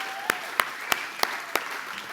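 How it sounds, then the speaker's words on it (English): Guests at a charity gathering applaud donors and sponsors with five sharp, evenly spaced claps ringing out over a faint room hum, sounding more like a few hands clapping in unison than a full crowd. "Please give a big round of applause for all of this evening's donors and sponsors, including yourselves."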